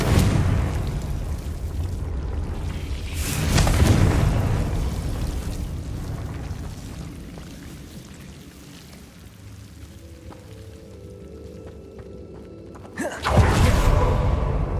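A Confringo fire spell in Hogwarts Legacy goes off as a loud whooshing burst near the start, then a rumbling roar fades slowly and a second sharp blast hits near the end.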